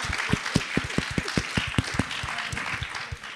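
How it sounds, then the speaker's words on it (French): Scattered claps from an audience in a hall ring out at an uneven pace, fairly close and clear, with no talking over them. "Je pense qu'on peut l'applaudir."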